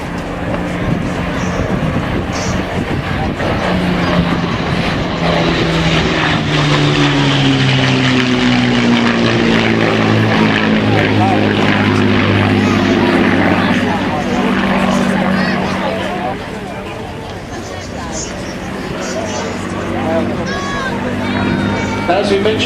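A vintage Hawker Nimrod biplane flies past at an air show, its propeller engine droning loud and rising then fading, while an announcer talks over it.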